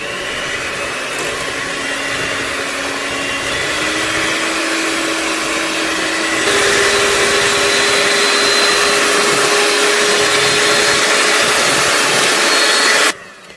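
An electric hand mixer beating sugar and eggs for a cake, a loud steady motor whine that holds for about thirteen seconds, rises in pitch and intensity partway through as the speed is raised, then cuts off abruptly.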